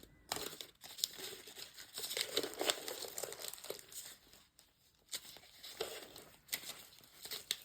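Handmade paper being handled and crinkled, with bursts of rustling, crackling and tearing-like sheet movement, close and fairly quiet, coming in uneven waves with short pauses and no talking.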